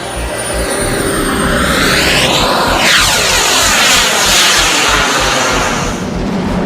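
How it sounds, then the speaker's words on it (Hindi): A Chinese fighter jet takes off with a loud, roaring jet engine whose pitch sweeps noticeably as it passes close by, sustained throughout without any voices. "चीन के फाइटर जेट ने उड़ान भरी"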